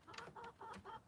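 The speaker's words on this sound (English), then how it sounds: "We got to visit the chickens." Backyard chickens cluck in a quick series of four or five short, close calls with brief gaps between them.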